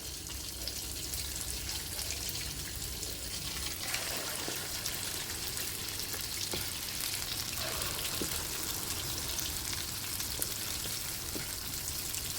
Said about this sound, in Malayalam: നമുക്കിത് ഓരോന്നായിട്ട് നമ്മുടെ ഇഡലി മാവിലോട്ട് മുക്കി നമുക്ക് എണ്ണയിലോട്ട് ഇട്ട് കൊടുക്കാം.